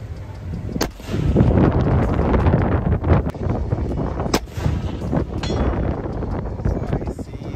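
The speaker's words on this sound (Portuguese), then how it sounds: "vou tentar atirar de pé agora" Rifle shots crack at a large shooting range, three sharp, loud reports spaced a few seconds apart over wind rumble and background noise, with some talk.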